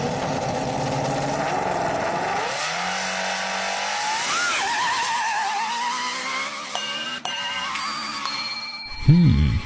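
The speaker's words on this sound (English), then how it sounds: "that exhaust note reminds me of a colorless buzzing sound" A car exhaust note gives a sustained, loud, buzzing engine drone that swoops up and down in pitch as the revs rise and fall, then ends in a few sharp clicks and a short rising whine, with no talking.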